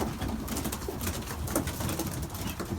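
Belgian racing pigeons coo in a loft during a morning feeding routine, a dense, steady murmur of many birds under constant broadband noise that runs through the whole stretch.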